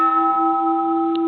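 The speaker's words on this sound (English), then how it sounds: "What a superb bell." A bronze Japanese Buddhist temple bell from 1888, repaired, rings with a sustained, pure metallic hum of steady overtones that hold evenly without decaying, with a faint tap near the end.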